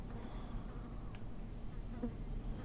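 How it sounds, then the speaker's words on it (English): Flies buzzing around rotting food in an abandoned kitchen in the video game Sagebrush, a faint continuous insect drone over a low background hum, with one brief buzzing pass, no talk. "I hear flies buzzing around, so there must still be some food left."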